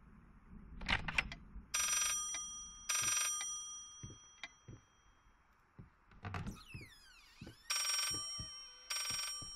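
In the horror game Layers of Fear, a telephone bell sounds in paired rings that repeat after a pause, clear and fairly loud, mixed with creaks, clicks and a rising eerie sweep in between.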